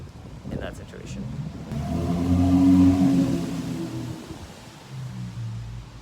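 A Dodge Charger drives past at a distance, its engine note swelling to a rumbling peak midway, then fading away, with faint voices near the start.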